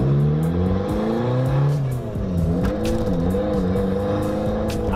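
A Mazda Miata with a brand-new six-puck clutch, flywheel and pressure plate drives along, its engine droning and shifting pitch as it revs up and eases off, close and continuous throughout.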